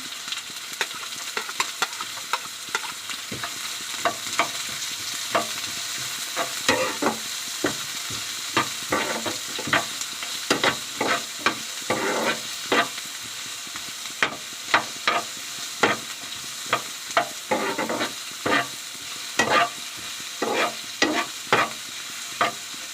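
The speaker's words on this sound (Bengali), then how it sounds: "তেলটা গরম হয়ে গেছে পেঁয়াজ লঙ্কা পেঁয়াজ আর লঙ্কাটা দিয়ে দিলাম" Sliced onion and green chili frying in hot oil, with a steady close sizzle and hiss and repeated scraping stirs of a spatula against the pan that keep an uneven rhythm throughout; no voices.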